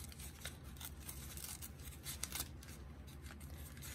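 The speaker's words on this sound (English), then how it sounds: "I just need to tear down this envelope a little bit." A paper envelope being torn down by hand for a recycled junk journal, a steady close rasping rip that runs continuously with brief brighter bursts of crackle.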